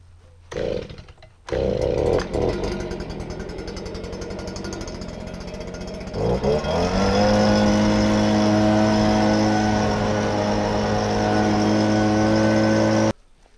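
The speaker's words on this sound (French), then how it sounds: "je vais passer un coup de souffleur pour enlever un maximum de poussière" A leaf blower clears dust from a combine harvester during a maize harvest. Clattering precedes the engine revving up to a loud, steady drone held close for several seconds before cutting off.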